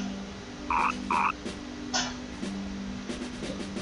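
Two short, bright croaks from a frog in the video game Mother 3, a quick pair of equal blips against a steady game music bed, followed by a softer chirpy effect.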